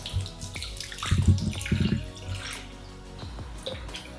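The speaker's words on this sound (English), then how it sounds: "I poured too much out." Water poured out of a cup, splashing and trickling in a couple of short bursts with dripping between, close and fairly clear with no talking.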